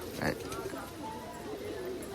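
A rooftop pigeon gives a short, soft coo early on, faint against breezy background noise and low murmuring sounds.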